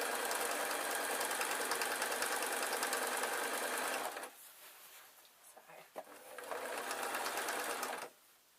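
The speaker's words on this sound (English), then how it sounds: "just going to sew that on" Sewing machine stitching backing onto a quilt, a steady fast mechanical whir for about four seconds, a brief quieter pause with small clicks, then another run of stitching before stopping.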